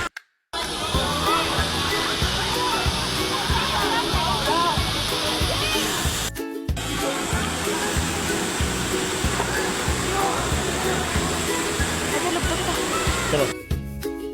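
Flowing water rushes steadily like a waterfall or stream outdoors on a field trip, a loud continuous wash broken by two brief dropouts, with voices talking beneath it.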